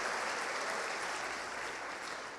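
A church congregation at Paz Church Macapá applauds in a steady, dense wash of clapping that fades slightly toward the end, with no speech over it.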